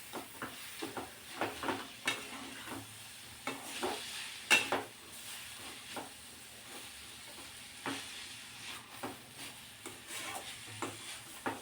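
Radish kharda steaming without added water in a pan over medium heat is mixed with a spoon, giving a soft hiss broken by repeated scraping strokes, fairly quiet and close.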